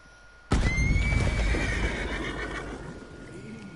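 A horse in Red Dead Redemption 2 whinnies loudly after a dynamite blast, a sudden explosive burst followed by a shrill neigh and fading rumble and scuffling.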